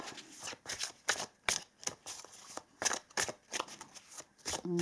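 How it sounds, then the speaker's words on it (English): Tarot cards are shuffled and pulled from the deck, a quick run of crisp riffling bursts and soft slaps close up, irregular and quiet, with no speech. "So I'm just going to pull some more cards here to see what pops up."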